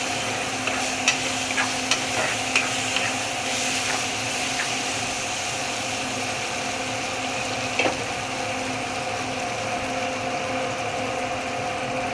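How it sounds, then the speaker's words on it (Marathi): A spoon scrapes and stirs shepu bhaji (dill greens) in a sizzling pan, a steady frying hiss with soft, irregular clinks, with no talk. "चांगलं स्टर करणार."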